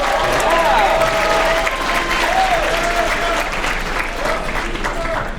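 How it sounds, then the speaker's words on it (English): A school audience at a writers' week assembly applauds strongly for a principal and a guest, with some cheering and a few tonal squeals rising over the clapping. "let's hear a round of applause for them."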